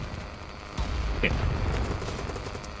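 Video game gunfire rattles off in a rapid, sustained burst from close by, steady and fairly loud over a low rumbling background.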